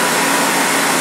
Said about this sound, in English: We're going to go ahead and turn the spindle off. And you hear it wind down.